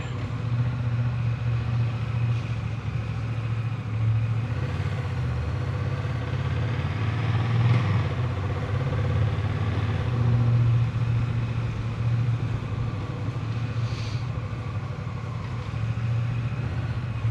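A Rebel motorcycle on a ride, its engine giving a steady, continuous low drone mixed with road and wind noise, with no talking over it.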